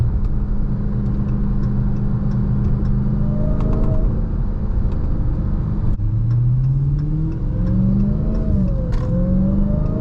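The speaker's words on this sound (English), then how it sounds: "Wow, that supercharger sounds really good." A supercharged Dodge Charger Hellcat Widebody engine revs and shifts up through gears, a loud low roar with rising and falling whine, close by, no speech.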